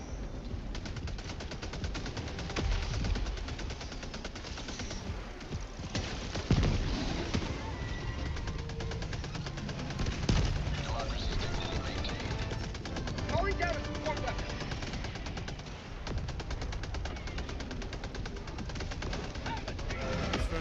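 An automated sentry turret in a video game rattles off dense, continuous gunfire amid other game noise, close and sustained, with a player speaking over it.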